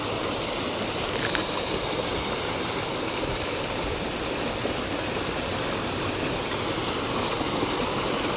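Water flows in a steady, unbroken rushing stream outdoors, a dense close wash of sound holding even loudness throughout, with no voices.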